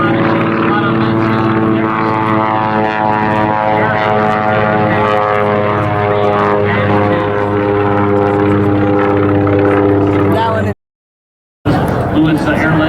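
F-3F biplane, a rare vintage aircraft, flying at an airshow in Laredo, its propeller engine droning loud and steady with a rich harmonic hum, broken by a sudden gap near the end before resuming.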